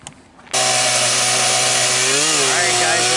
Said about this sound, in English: So, we'll come back when we have the chainsaw ready to cut.